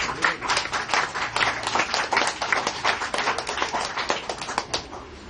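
Close, rhythmic group clapping during a church service, sharp hand claps repeating in a steady beat for several seconds with little else underneath.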